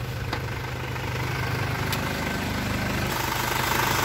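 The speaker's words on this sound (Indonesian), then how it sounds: "Untuk stasionernya dia di angka 700 RPM normal ya." A 1999 Isuzu Panther Royal's 2500 cc direct-injection diesel engine idles at about 700 RPM, a steady, close, rumbling clatter with no talk.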